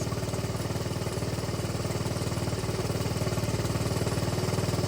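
A dirt bike engine idles steadily and close by during an air/fuel screw adjustment, with a fast, even putter and no voices.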